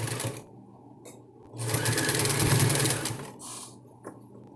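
Sewing machine stitching a double-sided diaper cover: a short whir of stitching, then a longer steady run of about two seconds before stopping, up close and alone.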